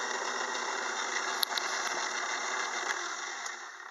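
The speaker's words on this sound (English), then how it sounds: "the cutter is cutting the last of the gear blank" A gear cutter machines the last of a gear blank with a steady, dense mechanical whir and hum, with a few faint ticks and clicks over it, continuous and close.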